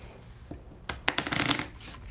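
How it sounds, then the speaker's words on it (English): A deck of Pandemic Legacy board game cards is shuffled up close. A few light taps come first, then a quick riffle of flicking cards builds and fades, with no talking. "I am going to have to give this a real shuffle"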